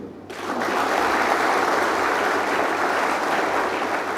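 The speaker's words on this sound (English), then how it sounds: "And probably a louder applause for all the parents too." Sustained, loud audience applause fills the hall at a Fijian college graduation ceremony, a dense steady wash of many hands clapping for the parents, holding strong without a break.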